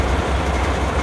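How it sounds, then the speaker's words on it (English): A pneumatic blower on a frac sand hauling truck gives a continuous dense rushing roar at close range, with no talk over it. "This is my blower here."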